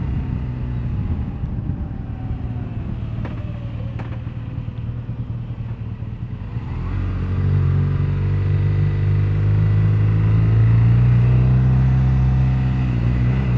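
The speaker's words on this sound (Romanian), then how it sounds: "Nu-i dau tare că nu-i motorul meu, deci trebuie să am grijă de el." Engine of a BMW GS1200 motorcycle on a test ride in Croatia, a steady low rumble that swells louder and deeper partway through as the bike accelerates, close and continuous with no talk.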